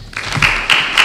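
Audience applause at a book presentation on physical education and school, a short burst of clapping from a room that swells in uneven waves, fairly close and alone without talk.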